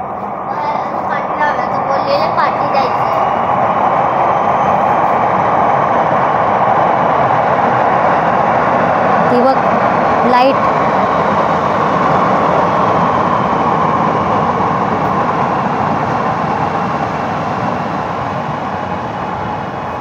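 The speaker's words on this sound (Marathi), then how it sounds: "आली ट्रेन आली ट्रेन आली ती बघ, हा लाईट दिसते" Underground metro train pulling into a station, a steady loud rumble and rushing roar that fills the platform for the whole stretch, with excited voices talking over it.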